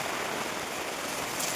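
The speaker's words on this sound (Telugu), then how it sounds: "వర్షం అయితే దంచేస్తుంది." Heavy rain pours down steadily at a brick house construction site, a dense even hiss of water with no breaks and no voices.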